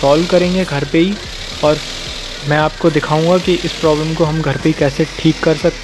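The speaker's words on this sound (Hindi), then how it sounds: "तो फ्रेंड्स आप इंजन की आवाज़ सुन सकते हैं" A Suzuki Alto K10 car engine idles with fluctuating RPM, a low steady hum running beneath someone talking almost continuously at close range.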